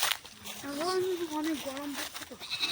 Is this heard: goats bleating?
yes